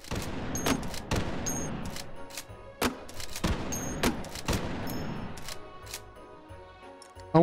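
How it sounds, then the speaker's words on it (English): A beefy pump-action grenade launcher in Hot Dogs, Horseshoes & Hand Grenades fires a series of sharp, punchy shots at a steady rhythm, about nine in all, with mechanical clacks and faint rattles between them. "this is a nice, beefy pump action grenade launcher"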